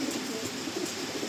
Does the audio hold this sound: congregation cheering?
no